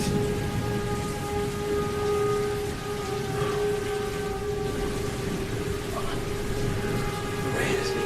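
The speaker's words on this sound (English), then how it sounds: "The rain has begun." Rain starting to fall: a steady, dense patter filling the whole stretch, with faint sustained tones running underneath and a few brief brighter splashes near the end.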